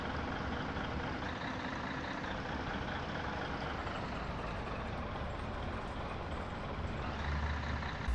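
Simulated Volvo FH16 car-carrier truck engine droning steadily while driving in Proton Bus Simulator, a dense continuous rumble with no pauses throughout.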